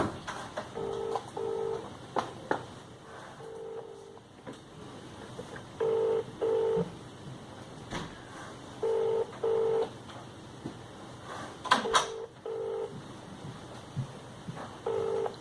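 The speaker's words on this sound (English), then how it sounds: "I'll let it ring off this time, and then I won't bother again." An outgoing phone call rings out unanswered, its repeated paired ringback tones coming faintly through the handset at steady intervals over a quiet room.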